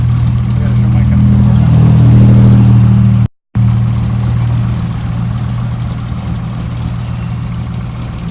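A 1987 Camaro IROC-Z engine idles loudly with a steady low drone, cuts out abruptly for a moment, then the hum resumes and slowly fades lower.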